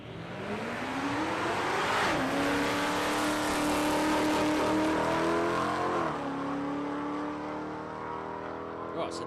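A nitro Ford Falcon drag car on a run at Palmyra Dragway, a loud sustained engine roar whose pitch climbs, holds and shifts before fading slightly at the end.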